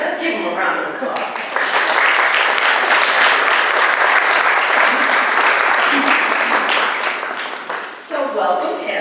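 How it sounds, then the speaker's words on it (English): A community forum crowd gives a panel a loud, dense round of applause that swells and holds for several seconds, with brief talk at the start and end. "All right, let's give them a round of applause."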